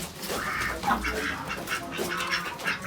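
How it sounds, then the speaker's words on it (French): Young ducks at a foie gras farm near Antananarivo, Madagascar, quack and chatter together in a busy overlapping flock, fairly close and steady throughout. "les canards qui sont au fond là, eux ils ont 18 jours là"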